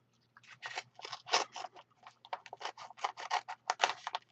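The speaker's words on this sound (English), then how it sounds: "Just cut off the very tip here." Scissors snip through the tip of a mail package in a quick run of crisp, close cuts with short pauses between bursts.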